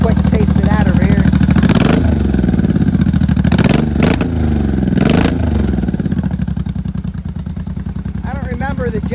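A 1983 Honda motorcycle engine runs loud and close, its steady idle broken by three sharp throttle blips that rise and fall before settling back to a rough, even idle.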